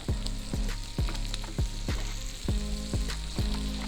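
Onions fry in a pan with sugar as they caramelize, a steady oily sizzle punctuated by regular thudding knocks of a spoon stirring against the pan, close and fairly quiet.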